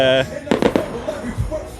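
A fireworks bonanza at a sold-out 2022 outdoor event gives a cluster of loud, sharp bursts with crackling tails in quick succession, following a brief tone and mixed with crowd noise and nearby voices.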